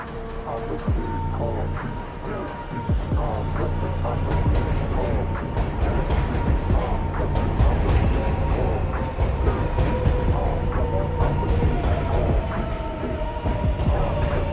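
A New York subway 7 local train runs with a loud, continuous rumble and rhythmic clickety-clack of wheels over rail joints, steady and close, with a tonal motor whine rising and falling across the ride.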